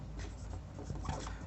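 Brief stretch of writing on a board in a geometry lesson for an exam practice set, a close continuous rubbing scratch of chalk or marker with a few sharper strokes, heard alone without speech.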